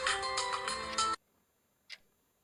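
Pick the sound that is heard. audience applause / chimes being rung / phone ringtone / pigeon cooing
phone ringtone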